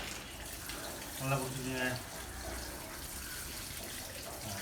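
Tap water runs over raw chicken drumsticks being washed at a sink, a brief louder splash near the middle, with people speaking over it.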